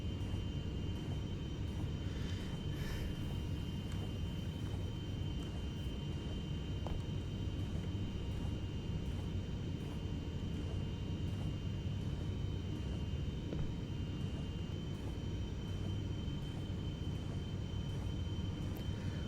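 Steady, even aircraft engine drone that continues unbroken and fairly loud throughout, with no voices over it.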